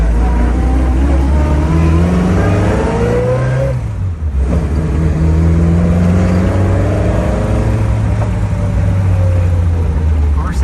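A cold 1968 Triumph Spitfire engine drones and revs up through the gears nearby, pitch rising and falling as it accelerates, with a brief lull midway.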